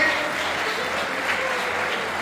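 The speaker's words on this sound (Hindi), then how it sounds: "ये ट्रैक मेंटेनर कर्मचारियों की तालियों की आवाज है।" Steady applause from a crowd at a railway track maintainers' union conference, dense continuous clapping that holds at an even level throughout.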